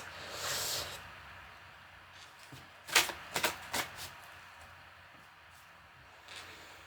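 Tarot cards being shuffled during a live card reading: a soft riffle and swish, then a cluster of quick crisp card snaps and flutters close by, followed by quieter handling.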